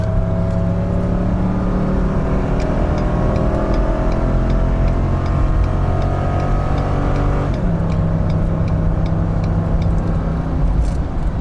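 An RV towing a trailer accelerates hard from about 35 on a highway on-ramp during busy holiday-weekend traffic, its engine droning loudly and rising steadily in pitch, with a brief dip as it shifts gears, under constant road and wind noise.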